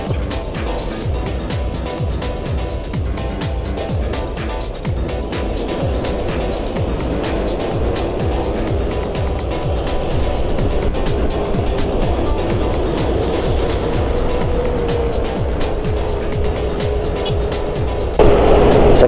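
Congested morning traffic crawls through the Jalan Gajah Mada intersection in Bandar Lampung, Indonesia. A loud, continuous drone of car engines holds throughout, with vehicles passing close by and a sharper swell near the end.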